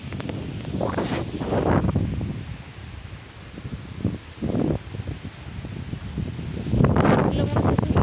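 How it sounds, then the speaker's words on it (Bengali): Strong wind gusting through marigold and other garden plants during a storm, rough blustery rumbles rising and falling in bursts, with the gusts buffeting the microphone up close. "এগুলো মনে হচ্ছে ভেঙে পড়বে, দেখো এত হাওয়া হচ্ছে।"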